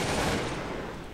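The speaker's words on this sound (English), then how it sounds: "We are under enemy gunfire." Massed musket volleys crackle in the strategy game Cossacks 2: Battle for Europe, a dense, continuous rattle of gunfire that stays loud throughout without any talk.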